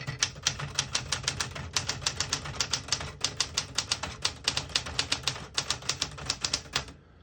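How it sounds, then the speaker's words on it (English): Crisp, rapid keystrokes from a 1967 Smith-Corona Super Sterling manual portable typewriter clack in an even run, close and alone, pausing briefly before trailing off. "I'll type a sentence in red on the next line."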